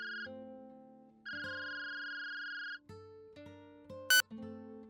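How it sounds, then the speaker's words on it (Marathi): A mobile phone ringtone plays as a sequence of electronic tones, sustained bright notes broken by short pauses and a brief sharp chirp near the end, close and clear with no one talking. "तितक्यात त्याचा फोन वाजला."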